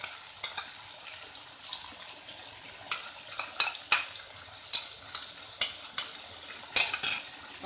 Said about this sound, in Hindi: और फ्राई करेंगे अच्छी तरह इसे भी साथ।